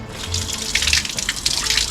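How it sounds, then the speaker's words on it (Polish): Water runs steadily from a mosque ablution fountain in Sarajevo as hands are rinsed beneath it, a close continuous splashing gush with small uneven surges and no voices. "Studnia do obmycia się przed modlitwą, przed każdym meczetem."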